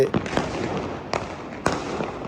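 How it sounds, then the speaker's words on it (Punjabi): Diwali firecrackers and fireworks bursting over Hoshiarpur city at night, with several sharp cracks at irregular intervals over a constant crackling, distant rumble. "ਪਟਾਕੇ ਦੀ ਆਵਾਜ਼ ਆ ਰਹੀ ਇਸ ਵੇਲੇ"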